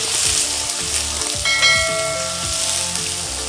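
Shallots, green chillies and curry leaves sautéing in hot oil for a Kerala sambar, a loud continuous sizzle and crackle with a brief metallic clink partway through.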